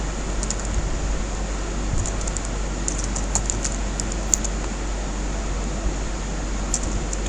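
A computer keyboard is typed on steadily at close range, with light clicking keystrokes in short irregular bursts over a constant low hum of room or fan noise.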